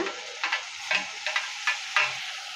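Tomatoes and onions sauté in a pan for egg fry, a soft steady sizzle broken by about six brief scraping stirs of a spoon, evenly spaced and close by.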